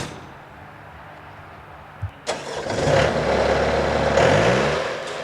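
A Dan Huser post-hole auger, roughly four or five years old, starts up in frozen ground with two sharp knocks and then revs into a strong, steady mid-pitched engine drone that holds close and loud for several seconds.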